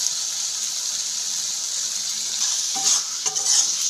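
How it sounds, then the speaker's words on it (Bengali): Mustard and green chilli paste is added to a hot pan of frying bitter gourd leaves with potato and aubergine, giving a steady bright sizzle with a few soft stirring clatters near the end. "সরষে কাঁচা লঙ্কার পেস্টটা এখন দিয়ে দেবো।"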